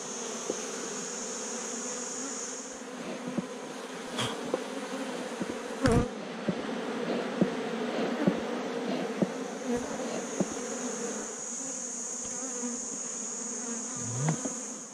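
A steady, close buzzing of many bees, being relocated as a whole colony in Paraguay, hums throughout, with occasional louder passes as individual insects fly near, and no voices.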